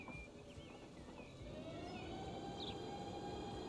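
An ICE 3 high-speed train accelerates in the game Transport Fever 2, a faint steady rolling drone with rising whining tones that climb gradually in pitch, with no talk over it.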